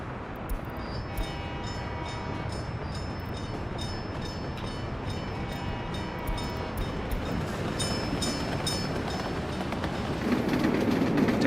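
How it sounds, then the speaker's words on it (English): Continuous train ride in the Satisfactory video game, steady rolling rail rumble with faint rhythmic clicking of wheels, loud and constant, swelling slightly toward the end. "This is a nice train ride, actually."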